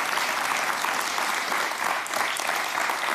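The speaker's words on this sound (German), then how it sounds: "Einen tollen Applaus." A TV cooking show studio audience gives a loud, even round of applause from many hands, steady and close throughout.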